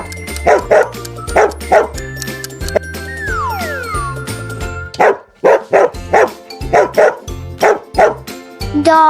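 A dog barks in a quick series of loud, close woofs and yips, with short bursts spaced through the clip and a brief whimpering, tinkling sound in between, set in an animal sound guessing game for kids.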